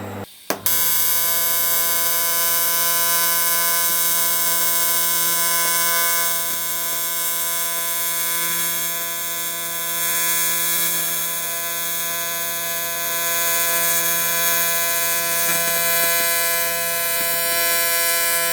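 TIG welding on an aluminium Rover manifold produces a steady, loud electric buzz with a constant pitch that runs almost unbroken for the whole stretch. There is no talking.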